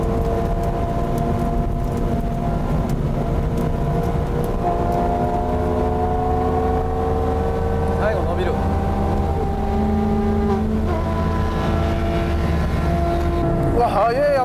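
A Porsche GT3 and a Ferrari F430 accelerating hard at high speed, engine notes climbing steadily in pitch over a continuous roar, with a voice speaking over part of the run.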